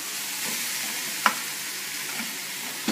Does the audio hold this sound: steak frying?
yes